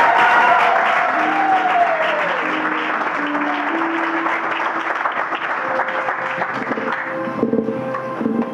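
A conference audience at a religious gathering claps and cheers loudly and steadily throughout, with brief sung or shouted tones rising over the dense applause.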